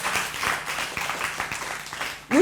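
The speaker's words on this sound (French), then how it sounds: "On applaudit donc pour le groupe scolaire Les Ailés." An audience in a school festival performance hall applauds a school group with continuous, fairly dense clapping, steady and moderately loud, fading slightly near the end before a brief voice breaks in.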